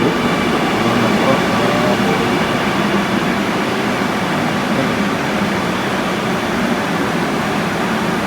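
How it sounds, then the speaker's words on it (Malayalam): A Kochi Metro train at a station platform gives a steady, broad rumble and whoosh with constant loud hum and no clear start or stop, while voices murmur faintly underneath. "അപ്പോൾ നമ്മൾ മെട്രോ വന്നിട്ടുണ്ട്"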